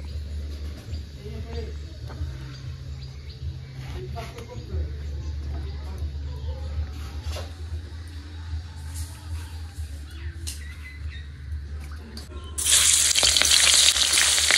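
Fish frying in oil, a soft crackle over a low hum with occasional clicks, then the sizzle jumps to a loud hiss near the end.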